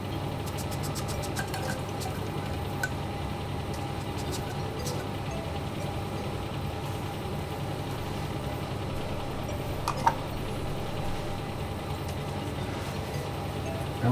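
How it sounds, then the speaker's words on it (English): Apple cider poured into a bowl for an oven BBQ rib sauce, a soft, steady liquid trickle lasting throughout against a constant low kitchen hum, with a small clink near the end. "And into that you want to add your apple cider."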